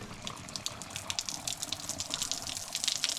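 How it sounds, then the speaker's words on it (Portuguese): Water pours from an outdoor shower at a rural cabin in the woods, a continuous bright splashing hiss with an uneven, spattering texture, close and fairly loud with no one talking. "Vamos ver como é que tá, se tá saindo água ainda."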